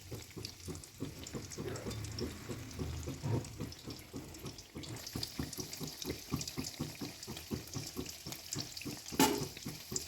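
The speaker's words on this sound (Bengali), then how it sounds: "এটা কিন্তু বেশি ভাজবো না কারণ এই সাদা অংশটা দেখানোর জন্যই রেখে দিচ্ছি" Fish fries in a pan for fish kabiraji, giving a quiet, crackling sizzle broken by rhythmic stirring or dabbing taps, and a brief louder clatter near the end.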